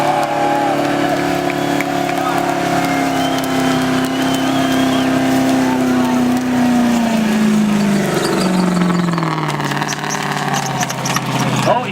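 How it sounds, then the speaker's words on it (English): A Holden VC Commodore fitted with a V8 roars loudly and continuously at a burnout event, its engine note held high and slowly falling in pitch, dominating throughout. "He's got a Commodore, he's got a V8 in it."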